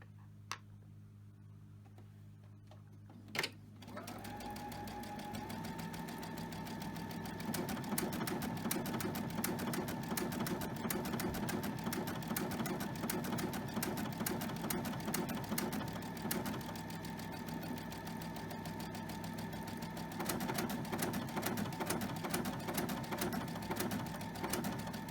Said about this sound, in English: go over to the machine and we're going to stitch